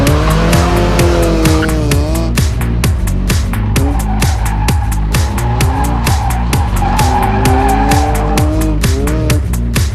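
A Saab 9-3 turbo race car at a Healey weekend track event, its engine loud and close, revving up and down through rapid gear changes with repeated tire squeal, no voices.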